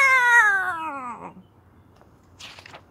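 A cat lets out one long, loud, close meow that slides downward in pitch and trails off, followed by a brief faint rustle.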